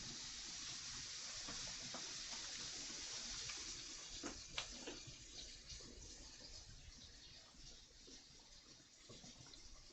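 Warm water running from a tap while preparing a food-coloring yarn dye bath, a faint, steady rushing flow with a few small clinks, distant and quiet throughout.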